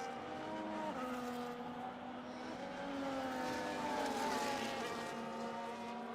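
Sustained whine of a McLaren race car engine in a racing video game, steady and droning with gear shifts stepping the pitch up and down, no talking.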